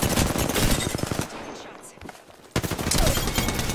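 Rapid automatic gunfire in Apex Legends, with dense bursts of shots loud and close, a short lull in the middle, then more sustained firing.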